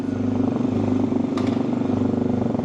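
A carbureted Geon motorcycle engine runs close by with a fast, pulsing throb that surges slightly as it is revved, with a brief metallic clatter partway through.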